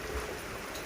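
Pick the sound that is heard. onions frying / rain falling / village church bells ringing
rain falling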